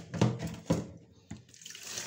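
Soaked rice is drained of its water in a kitchen, giving a few quiet splashes and pours in separate bursts with soft trickling between them.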